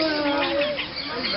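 A pet bird chattering close up at a man, rising and falling warbled calls and squawky chirps running continuously, with voices faintly present.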